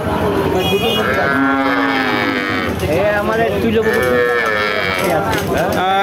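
A local breed cow with her calf lows loudly with long drawn-out moos, close by, amid continuous talking and the bustle of a cattle market.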